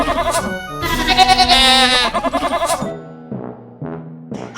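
A goat gives a series of loud, close bleats: a long wavering cry, then shorter quavering calls separated by brief pauses, with no talk.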